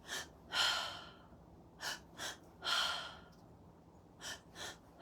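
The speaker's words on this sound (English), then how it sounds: "2 inhales into the womb, into the heart, nice and quick, like 1 second each. And then you're going to exhale through the mouth for 2 seconds" Breathwork exercise with quick mouth inhales and longer mouth exhales, a pattern of short sharp breaths followed by a drawn-out airy exhale, repeated twice and then a few shorter breaths, close and quiet with no speech.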